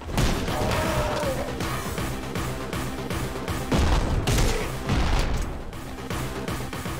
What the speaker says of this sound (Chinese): 踢那个风扇，哦，它爆炸